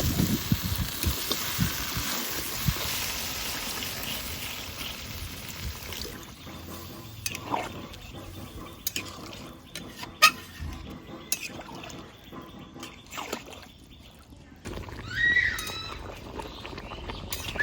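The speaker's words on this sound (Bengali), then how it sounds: "খাসির মাংস সুন্দর করে কষানো হয়ে গেছে, এখন আমি জল দিয়ে দেবো।" Water pours into a pot of braised mutton curry, a rushing splash at first that settles into quieter liquid sounds and occasional kitchen clatter.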